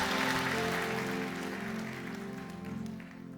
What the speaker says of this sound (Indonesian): Tepuk tangan yang meriah buat Allah kita.